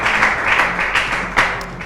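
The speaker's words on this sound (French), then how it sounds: "On les applaudit pour cela et même vous-même." A quiz show audience claps for participants in a short, dense burst of applause, loud and close, with a few sharper claps standing out.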